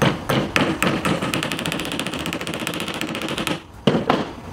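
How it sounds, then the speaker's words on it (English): A hammer strikes a lead split shot over and over to flatten it into a hole for a homemade fishing lure, giving rapid, sharp metallic blows in a dense run, then a brief pause and a few more loud hits. "I'm gonna take a hammer and hammer it flat"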